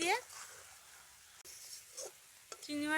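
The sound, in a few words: stirring fried shrimp into taro leaves in a pan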